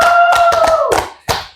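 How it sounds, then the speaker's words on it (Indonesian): A short burst of applause from a small audience, loud and close with quick clustered claps that thin out into a few final claps; a sustained tone fades underneath at the start. "kita tepuk tangan dulu boleh deh"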